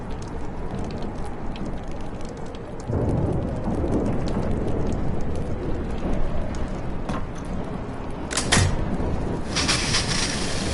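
Thunderstorm in the video game Life Is Strange: steady heavy rain pours throughout, with deep rolling thunder swelling partway through and sharp crackling strikes near the end, loud and close with no voices.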